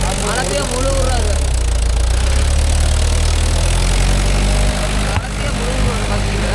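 A Mahindra 415 DI tractor engine runs steadily with a deep, loud diesel rumble while pulling a 9-tine cultivator through farmland, with someone talking over it throughout.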